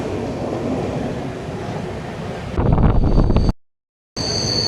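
A passenger train on a Kerala railway rolls along through monsoon country with a steady rumble and wind rush, growing louder and harsher as it takes a curve, then briefly cutting out before the running noise resumes.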